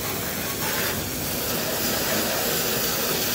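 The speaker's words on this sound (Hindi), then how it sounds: "तो जी कर दी जाए ट्रैक्टर की वॉशिंग," A tractor is washed with a steady, loud spray of water, a continuous broad hiss with no pauses.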